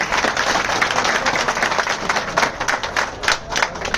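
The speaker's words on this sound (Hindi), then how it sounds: "एक बार तालियां साथियों सरकार।" A gathered crowd at a Hindi-language meeting claps in a thick, steady burst, with some sharper individual claps standing out near the end and the sound staying close and full.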